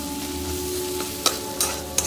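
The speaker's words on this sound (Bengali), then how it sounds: "খুব ভালো করে কষিয়ে নেব" A fish-head moong dal masala with potatoes sizzles steadily in oil while being stirred, with a few sharp spatula scrapes against the pan over the close, continuous frying hiss.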